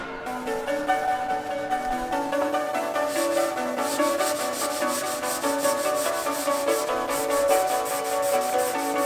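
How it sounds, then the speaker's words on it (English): Bondo body filler is sanded by hand in a car engine bay, a continuous scratchy rubbing with steady back-and-forth strokes, close and fairly loud, with no one talking. "I'm probably going to be sanding Bondo this whole video"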